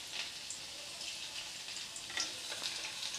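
Chopped garlic and black cumin seeds fry in a little oil for bottle gourd leaf paste, a quiet steady sizzle with occasional faint pops and light stirring, no speech.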